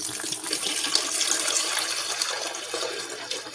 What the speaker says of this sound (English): pour that water in.